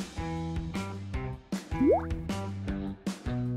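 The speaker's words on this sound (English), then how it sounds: "mixing the ingredients together and filling in the molds with the liquid." Liquid jelly mixture drips and plops into molds in a series of separate pours, each with a short bubbly, resonant splash and one rising gurgle, close and fairly quiet.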